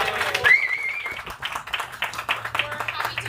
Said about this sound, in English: let's give South Texas a round of applause.